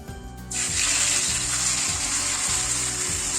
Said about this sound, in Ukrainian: а ми будемо обсмажувати фарш